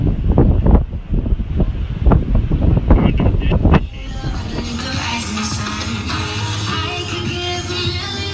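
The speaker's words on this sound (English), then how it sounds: "It's very windy out here." Strong wind buffets the microphone at a beach pier in Daytona Beach, loud gusty rumbling for the first few seconds, then dropping to a steadier, softer rush of wind and surf.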